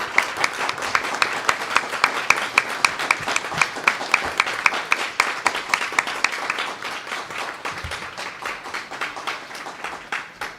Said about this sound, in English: Can we get a round of applause for your candidates